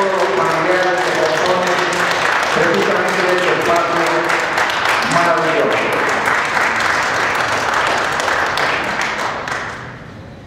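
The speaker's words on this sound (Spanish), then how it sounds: "Le damos un gran aplauso a los artistas y a todos." Applause for the artists at an art presentation in Ocotlán, Jalisco, a full, steady crowd clapping with voices mixed in, sustained loudly before tapering off at the very end.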